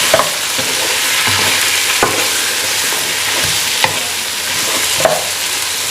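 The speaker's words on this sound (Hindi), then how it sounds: "अब हमने मटन को अच्छी तरह फ्राई करना है इस ऑयल में, प्याज के साथ और लहसुन अदरक के साथ।" Boiled mutton fries in oil with onion, garlic and ginger in a karahi, giving a steady loud sizzle with occasional stirring clinks and scrapes, no voices.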